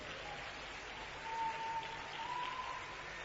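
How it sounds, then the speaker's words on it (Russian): A congregation in a church hall applauds newcomers in a quiet, distant, continuous wash of clapping that swells slightly midway. "Аплодисменты им в зале."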